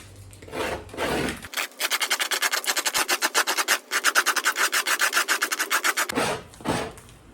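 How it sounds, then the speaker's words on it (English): A spoon scrapes a salt, alum and borax mixture off a doe hide in a fast run of rhythmic rasping strokes, close and loud, with a few slower rubbing scrapes before and after. "I'm gonna scrape some of this off using my good old spoon"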